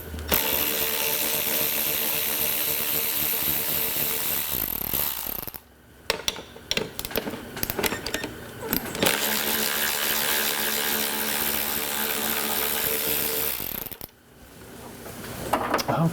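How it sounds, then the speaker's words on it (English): Ratchet wrench working on transmission mount bolts of a 1996–2006 Mercedes-Benz, a dense steady mechanical clicking that runs loud and close for about five seconds, pauses, resumes for several more, and starts again near the end. "you remove these two bolts first"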